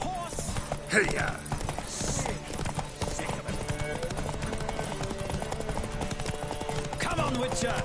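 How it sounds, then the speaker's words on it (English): Horses gallop in a race in the video game Witcher 3, a steady clip-clop of hooves running continuously under game music and occasional voices. "The horses are saddled."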